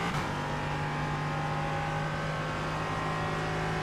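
GT4 race car engine at the Nürburgring in iRacing, a steady, loud droning engine tone held at high revs, with a faint squeal of tyres.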